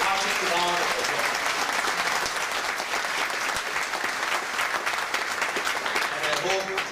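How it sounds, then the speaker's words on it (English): A conference hall audience at the World Tourism Conference 2016 gives Minister Dato Sri Nasri Aziz a loud, sustained round of applause, with a voice heard briefly at the start and end. "Let us give him a hearty round of applause."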